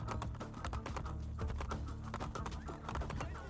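Horse hooves in Assassin's Creed Brotherhood clatter in a quick, steady running rhythm, loud and close, with a brief whinny, and no talk over them.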